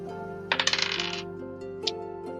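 Dice are rolled during a Dungeons & Dragons tabletop game: a quick run of hard clattering bounces that rattle and fade, then one more small click, over a steady low background hum.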